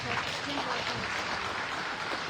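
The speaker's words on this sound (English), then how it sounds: "let's reward these kids with a big round of applause" Sustained crowd applause for young exhibitors at a junior livestock show in Reeves County, a steady wash of clapping that runs unbroken for the whole stretch.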